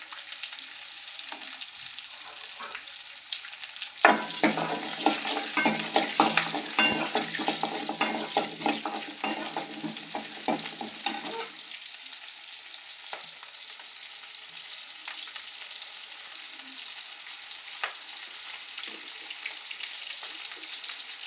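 Small shallots sauté in a pan with fennel seeds, giving a crackling sizzle with busy stirring for several seconds before it settles into a quieter hiss with occasional faint clicks.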